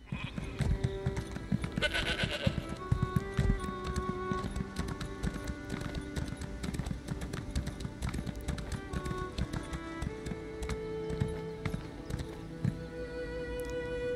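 Horse hooves clip-clop steadily while riding in The Elder Scrolls Online on Xbox Series X, a brisk continuous hoofbeat rhythm with occasional animal calls and faint game sounds, close and prominent.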